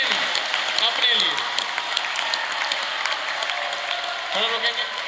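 An audience at a school yoga workshop in Aligarh claps loudly and steadily for several seconds, a dense crowd applause filling the room with voices mixed in.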